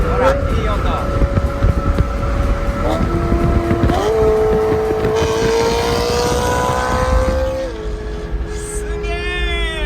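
A BMW sports car fitted with an aftermarket muffler exhaust revs loudly and drives past, its engine note rising and falling through several gear changes, with people talking excitedly over it.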